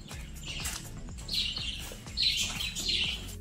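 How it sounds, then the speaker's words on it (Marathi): Lovebirds chirp in bright, repeated bursts of tweeting, fairly close, over a constant low rumble in an outdoor setting in Palghar. "तिकडे पाखरांची किलबिलाट चालू आहे"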